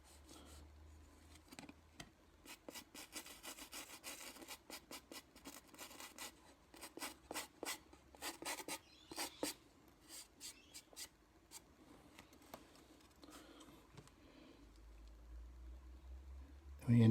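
Short scratchy rubbing strokes scrape across a corrugated iron-effect wood panel during rust weathering, coming in quick irregular bursts close by, with quieter pauses between and a thump at the end.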